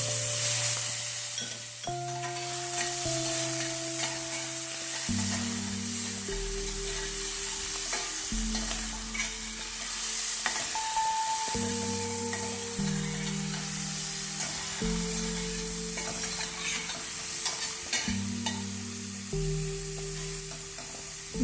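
Prawns frying in coconut oil in a pan give a steady, close sizzle that runs unbroken for the whole stretch, with background music playing alongside and no one talking.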